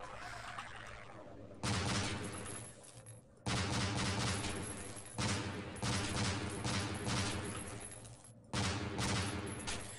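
Repeated weapon fire from Half-Life rings out in loud bursts separated by brief gaps, each volley cutting in sharply and sustaining with a harsh, full-bodied roar.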